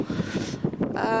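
Strong wind from a winter storm buffets the microphone in steady, roaring gusts, loud and close, with a faint voice mixed in.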